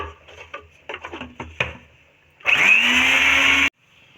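An electric hand mixer beats eggs into chocolate marble cake batter. A few light knocks and taps come first, then the mixer whirs up loud and close with a rising pitch, runs steadily for about a second, and stops abruptly.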